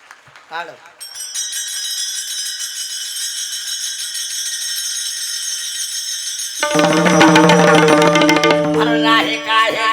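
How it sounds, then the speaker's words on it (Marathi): Taal hand cymbals ring at a kirtan during a week-long devotional gathering, a sustained bright metallic shimmer that swells louder as a crowd of voices joins in partway through. "टाळ वाजवा"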